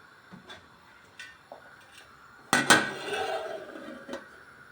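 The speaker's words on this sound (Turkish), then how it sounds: "Karıştıralım. Kapağını yarım kapatalım." A spoon clinks a few times in a pot of beans, then a sharp metallic clang as the lid is set half-closed, ringing briefly; quiet kitchen, close.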